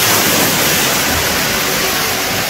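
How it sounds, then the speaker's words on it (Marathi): Water pours down from a tipping bucket at a resort water park in Karjat, a loud, continuous roaring splash filling the whole clip, close by and uninterrupted. "असं पूर्ण पाणी ना बकेटमधून खाली पडतं"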